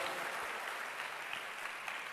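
A church congregation claps together, producing a dense, steady wash of applause that stays fairly even across the short stretch.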